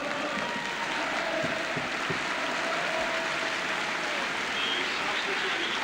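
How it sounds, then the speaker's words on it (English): Steady, sustained applause from a large football stadium crowd at Orient in 1974 as a substituted player leaves, a dense continuous clapping roar with a speaking voice faintly mixed in. "Getting warm applause from the big crowd here at Orient for Macari as he goes off and McElroy comes"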